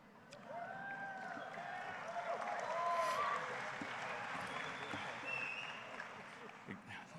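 A high school graduation crowd gives scattered, moderate applause that swells briefly and then thins, heard from a distance with voices mixed in.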